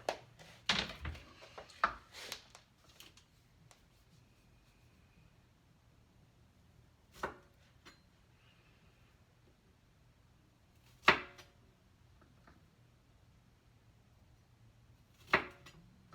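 A knife cutting garlic rosemary wheat bread dough in half: a cluster of quick soft cuts and taps at first, then a few isolated sharp knocks against the board, spaced several seconds apart in a quiet kitchen.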